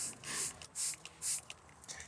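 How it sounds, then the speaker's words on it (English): Interior cleaner sprayed onto a clean microfiber towel for a muddy work truck cab: three quick, close hissing trigger bursts, evenly spaced, with no talk. "we'll spray directly onto our clean workhorse microfiber towel."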